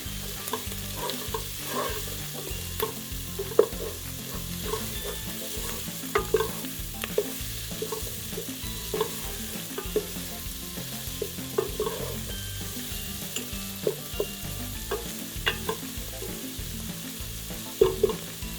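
Vegetables sweat over heat with a pinch of salt, giving a soft, continuous sizzle punctuated by frequent light clicks and scrapes of a spoon stirring in the pan, close and without talk.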